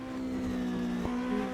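A Mazda 787 Group C race car's rotary engine in the racing game Automobilista 2 drones at a steady, sustained pitch, a smooth continuous buzzing tone with no gear changes and no talking.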